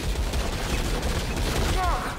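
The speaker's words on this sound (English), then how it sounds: "Rattling gunner." Ratling gunner in Warhammer End Times Vermintide rattling off a rapid stream of gunfire, steady and fairly loud in a cluttered game mix, with a brief voice in the middle.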